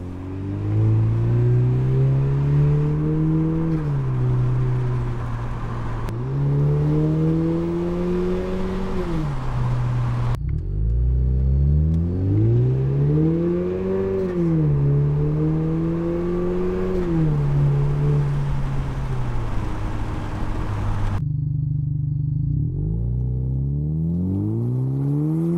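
A Lexus IS or RC with a little 2-liter turbo engine and an aftermarket axle-back exhaust revs repeatedly, rising and falling in loud, close throttle blips with a raspy exhaust tone, no talking.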